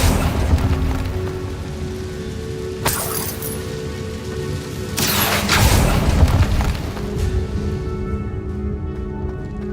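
Confringo and Incendio spells cast in Hogwarts Legacy: two bursts of crackling, fiery blasts over a steady rain-like hiss, each swelling and fading, the second longer and louder, close and alone without talk.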